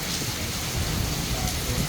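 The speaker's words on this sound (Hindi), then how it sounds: "इसके बाद देखिएगा कि बारिश कितनी तेज़ हुई है।" Heavy rain pours outdoors during a windy downpour by a commercial market, a dense, steady hiss of drops hitting surfaces that fills the whole short stretch at an even level.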